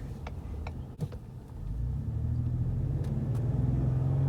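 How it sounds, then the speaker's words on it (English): A 2021 Ford Expedition Limited Stealth Edition with a turbocharged engine pulls away from a standstill, a low engine rumble that swells and builds steadily as the SUV accelerates, with no talk over it. "It does have a little bit of turbo lag when you step on it from a standstill"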